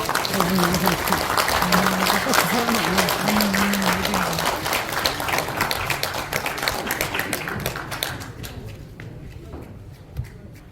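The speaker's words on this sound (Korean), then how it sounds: "여러분 박수 부탁드립니다" Audience applause at a 2023 New Year reception forum in Korea, steady crowd clapping throughout with a voice murmuring underneath early on, tapering off near the end.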